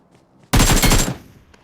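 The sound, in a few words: gunfire finishing off enemy in video game BGMI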